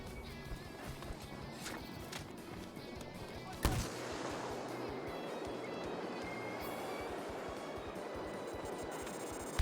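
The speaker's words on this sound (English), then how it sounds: "Missile hit the target." A TV-guided missile explodes in ACW-R, one sharp loud blast cutting through a dense battlefield din of distant gunfire and rumble, then fading back into the steady noise.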